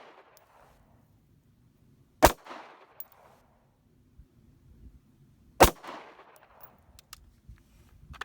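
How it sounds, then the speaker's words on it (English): Two sharp, loud pistol shots at a shooting range, a few seconds apart, each a crisp crack followed by a short ringing echo, with quiet between them and no speech. "all three of those shots I end up hitting the same bullet"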